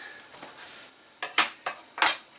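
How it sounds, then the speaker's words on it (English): Chopped onion tipped into a cooking pot for beetroot ketchup, giving several sharp clattering knocks and scrapes of utensil against pot, close and fairly loud, with no talking. "I'm going to chop up my onion very finely and add that to the pot"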